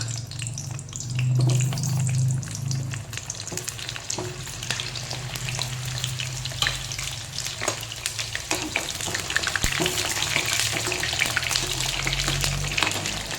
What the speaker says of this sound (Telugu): నూనె వేడెక్కాక మనం ఉసిరికాయలు వేసుకుందాం